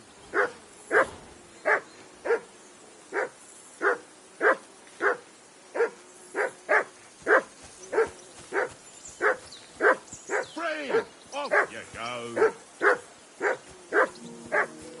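In the video game Kingdom Come: Deliverance 2, a dog barks over and over in a steady rhythm, around twenty evenly spaced woofs, fairly close. A person speaks briefly near the end.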